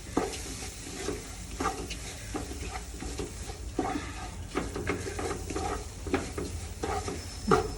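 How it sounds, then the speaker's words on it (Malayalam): Biryani masala being sautéed in a pan, a steady close sizzle broken by repeated scraping stirs of a spoon against the pan, with no talking. "പച്ചമണമെല്ലാം ഒന്ന് മാറുന്നത് വരെ നല്ലതുപോലെ വഴറ്റിയിട്ട്"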